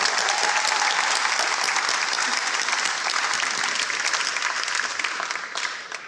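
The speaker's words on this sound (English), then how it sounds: "well-deserved round of applause to the employees" Sustained, dense applause from an audience at an airport reopening ceremony, honoring the employees; steady and loud throughout before tapering slightly at the end, with no voices standing out.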